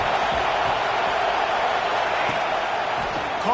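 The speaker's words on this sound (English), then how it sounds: "Listen to this crowd just shaking the girders of this place" Dense, steady roar of a packed stadium crowd at a college football game between Notre Dame and Tennessee, loud and continuous throughout with a faint commentator-like voice underneath.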